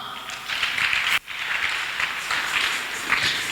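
A church congregation breaks into applause, a continuous wash of clapping from a crowd that holds steady for a few seconds, with one brief dip partway through.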